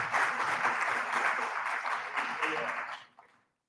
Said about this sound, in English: Please applaud.